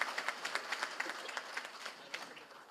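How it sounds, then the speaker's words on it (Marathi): An audience claps for a guest at a political gathering, a brief, fairly faint patter of applause with irregular claps and no voices. "साहेबांकरता टाळ्या"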